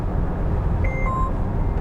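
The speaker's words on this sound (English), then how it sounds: "when you turn it off manually, it beeps like that" A Polestar 4 electric car, 100 kWh and 544 hp, gives a short electronic chime when self-steering is switched off: two or three clear tonal beeps in quick succession over a steady low cabin road rumble.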